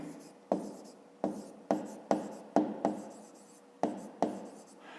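A pen writes on paper while solving a fifth-grade maths exercise, close up, in about nine quick scratchy strokes separated by brief pauses, with no speech.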